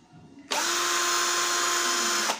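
An NRT PRO DC340 cordless drill spins up at its second speed setting, a loud steady whine with a sharp start that holds evenly for about two seconds before cutting off.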